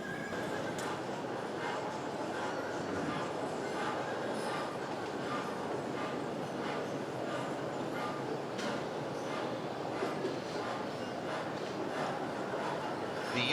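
A model passenger train rolls along a layout at Entertrainment Junction, a steady, dense rumble and clatter that holds at an even level throughout, with a brief scattered knock or two near the start.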